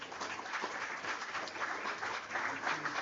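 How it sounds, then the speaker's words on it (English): A crowd applauding steadily for about three seconds, dense overlapping claps with no voices over it. "let's give him another round of applause"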